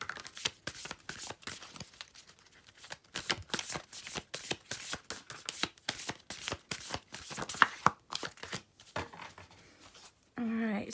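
A spell casting oracle card deck is shuffled by hand in rapid, close riffling bursts with short pauses, and a brief voice comes in at the very end.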